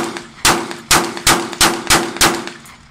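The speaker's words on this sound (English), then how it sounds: "So my son's gonna fire the Glock 10 millimeter." A Glock 20 Gen 4 10mm pistol fires six sharp, loud shots in quick succession, each crack followed by a brief ringing echo outdoors.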